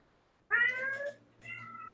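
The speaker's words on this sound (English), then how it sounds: "it's just an alley cat." An alley cat meows twice, close and clear, a longer drawn-out call followed by a shorter one, over quiet background.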